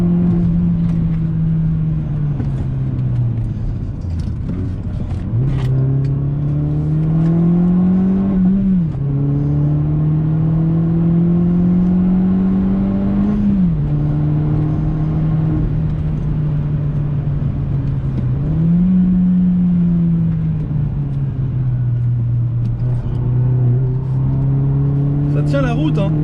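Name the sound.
Opel Astra OPC 180 hp car accelerating at full throttle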